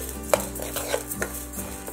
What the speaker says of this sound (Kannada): ಇವಾಗ ಹೆಸರುಬೇಳೆ ಹಾಕ್ತಿದ್ದೀನಿ ಇದಕ್ಕೆ